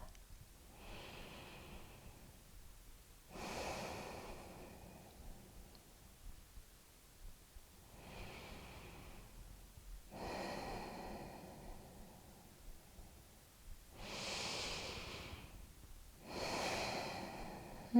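Slow natural breathing during a yoga meditation, with several soft, airy inhales and exhales repeating at a calm, even pace, close and quiet with pauses between breaths.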